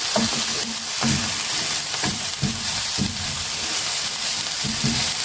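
Chopped tomatoes and garlic sizzle in a hot pan with a steady crackle, broken by repeated stirring scrapes every second or so, close and fairly loud.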